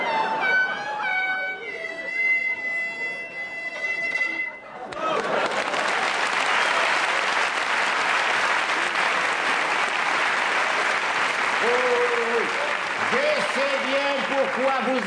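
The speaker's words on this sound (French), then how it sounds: "Pourquoi vous applaudissez, va?" A loud, sustained wave of applause from the audience at a comedy show at the Olympia hall takes over after a held, tonal note. It runs dense and steady for about ten seconds while a voice speaks over it near the end.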